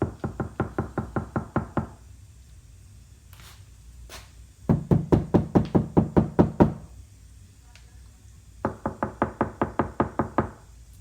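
Rapid bursts of about ten knocks each strike a Nissan car door lined with KilMat sound dampening, in three close, steady runs separated by pauses with a few faint clicks.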